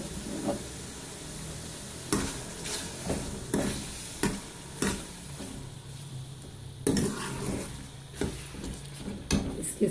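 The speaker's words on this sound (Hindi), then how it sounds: "ये गोश्त भुन रहा है।" Beef sizzles and fries with spices in a pot for nihari, a steady hiss broken by repeated stirring scrapes and clinks, close and moderately loud with no talking.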